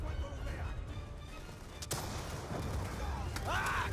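Gunfire in the Call of Duty: Black Ops II campaign, dense battle noise with sharp shots and bursts across the clip, loud and steady, with frantic voices mixed into the chaos.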